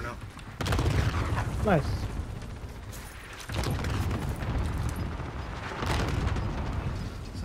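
Gunfire in Call of Duty: Modern Warfare, a steady barrage of shots and booms running throughout, loud and continuous under players talking over voice chat.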